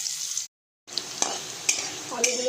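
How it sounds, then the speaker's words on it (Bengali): Potatoes frying in hot oil give a steady broadband sizzle, interrupted by a brief gap, with a few sharp clicks of utensils stirring the pan. "তেলটা গরম হয়ে গেছে, আলুগুলো দিয়ে দেবো। আলুগুলো ভেজে নেব।"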